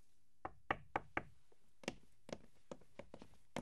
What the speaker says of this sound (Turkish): duydun mu kapının sesini?